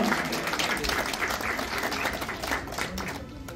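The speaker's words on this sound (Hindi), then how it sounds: "जोरदार तालियां सा।" Loud, steady applause from a large crowd at a BJP election rally in Janakpuri, Delhi, a dense unbroken wash of clapping filling the whole stretch with no clear voices on top.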